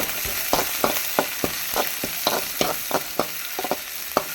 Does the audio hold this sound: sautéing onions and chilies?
yes